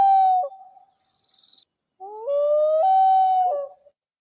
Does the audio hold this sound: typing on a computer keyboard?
no